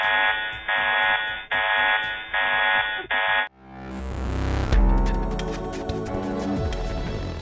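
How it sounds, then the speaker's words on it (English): A loud buzzing alarm sounds in repeated short bursts at an observatory, then gives way to a rising tone and swelling music. "suddenly, an alarm rings and calls for their undivided attention"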